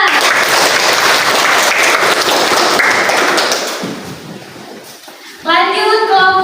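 A children's class applauds together after a group presentation, a dense, loud burst of clapping that fades toward the end before a voice speaks over the quieter room.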